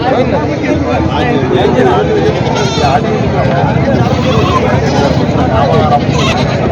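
Goats and sheep bleat repeatedly at the Khandoba goat and sheep market in Parbhani, a dense, loud chorus of overlapping calls over crowd chatter and people talking nearby.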